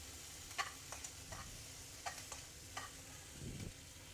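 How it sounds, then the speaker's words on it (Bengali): Ground spices with garlic and ginger paste frying and being stirred in a pan for a rohu fish curry with taro, with a soft steady sizzle broken by a few sharp scraping strokes of a spoon, faint and close, no voices. "আমি সব মশলাগুলো দিয়ে দিয়েছি, একটু ভালো করে কষায় নিব।"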